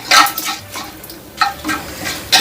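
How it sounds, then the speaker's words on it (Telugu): Urad dal fries in a pan for a mint chutney tempering with asafoetida while a spoon stirs and scrapes in short bursts, loud and close over a faint crackle, with no talking. "కొంచెం అలా వేయించుకోండి ఆ మినపప్పు కాస్త బాగా వేగాలి"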